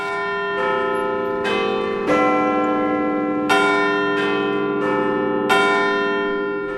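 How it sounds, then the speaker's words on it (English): Big Ben and the Westminster clock-tower bells ring out loud and close in a slow series of resonant strikes, each one leaving a long, shimmering hum that overlaps the next. "All of London, soon every home in the nation, would hear, on the hour, every hour, these bells."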